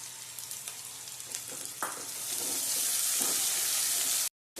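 Chopped onions fry in a pan for a kantola (spiny gourd) curry, with a steady sizzle building louder as they are stirred, then a brief cut-out near the end.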